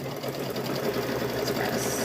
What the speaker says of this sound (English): we're going to sew around